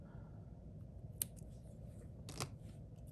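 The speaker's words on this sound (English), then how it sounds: "we're going to overlap it a little and then cut off the extra" Scissors trimming excess craft material on a Hanukkah shaker magnet kit, two quiet crisp snips spaced about a second apart over a soft low background hum.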